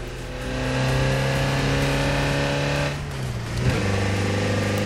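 A Toyota pickup's standard engine in Forza Horizon 4 revs up and holds a steady high drone, dips briefly, then climbs again with a quick blip and settles at a loud, even pitch.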